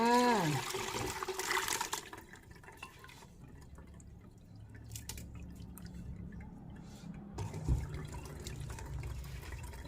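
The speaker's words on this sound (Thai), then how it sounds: "อันนี้น้ำที่สองจ้าใส่น้ำลงไป" Water is poured into a pot of crab curry for rice noodles, a splashing pour in the first two seconds followed by quieter dripping and trickling, with another splash near the end.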